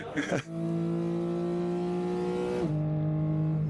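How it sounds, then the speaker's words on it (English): A Porsche race car in the GTS class holds a steady, buzzing engine note that suddenly drops in pitch as it shifts gear, after a brief burst of other noise at the start. "The JDK Porsche fighting for honors in the GTS class"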